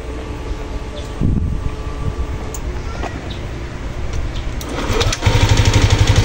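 Yamaha Aerox 155 scooter engine cranking and catching after a spark plug replacement, a loud close mechanical whir building into a rapid idling putter near the end.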